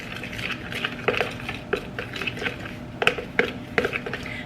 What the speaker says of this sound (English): I'm just going to mix it up.